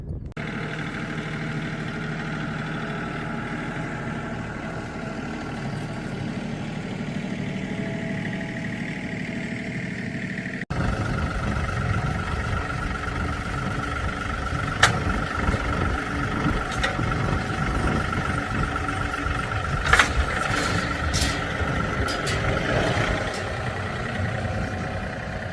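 A forklift engine idles and runs steadily, a low mechanical drone close by with a heavier rumble after a shift partway through, and a few sharp knocks and clanks on top.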